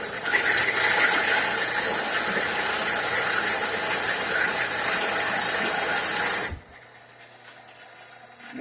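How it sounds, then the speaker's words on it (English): A grinder running against a hard precious metal nugget, a loud continuous high-pitched whirring grind that stops abruptly near the end, leaving near silence. "Put it on my grinder."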